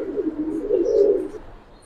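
Pigeons at a pigeon farm coo in a low, steady, rolling call that swells and fades over a couple of seconds, close by, with faint chirps above and no talk.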